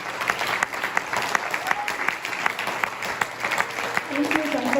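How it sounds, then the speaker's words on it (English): An audience applauds performers at a community music event, sustained clapping with crisp individual claps standing out, and voices murmuring beneath the applause. "Please give them another round of applause."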